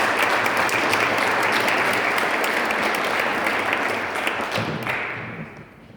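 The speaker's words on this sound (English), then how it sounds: "Please join me in a round of applause for our distinguished panel." An audience applauds the panel at an Army-Navy debate team match in Boston with a loud, dense, sustained ovation that tapers off near the end.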